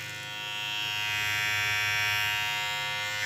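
A Kemei KM1031 cordless hair clipper hums close by with an even, continuous buzz. It stays at a constant level throughout, with no voices.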